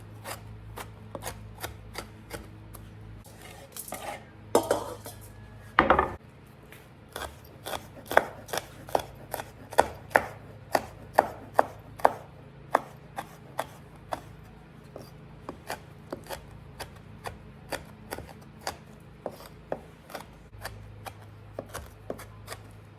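Peppers are chopped quickly with a knife on a board, giving a long run of sharp, close taps in an uneven rhythm with a few brief louder knocks early on.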